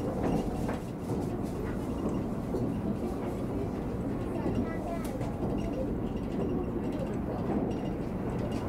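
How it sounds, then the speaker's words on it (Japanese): Shimakaze limited express train running through Takayasu station in Japan, a steady dense rumble with clattering wheel noise that holds throughout, with voices talking over it. "島風は高安を通過していきますわ"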